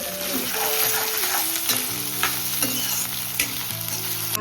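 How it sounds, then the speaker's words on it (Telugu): Bitter gourd pieces frying in a pan give a continuous close sizzle with spatters and a few stirring scrapes, while a faint steady tonal hum runs underneath. "కాకరకాయలు వేగుతున్నాయి కదండి"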